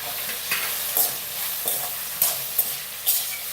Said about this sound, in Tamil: இது நல்லா வதங்கிட்டுருக்கு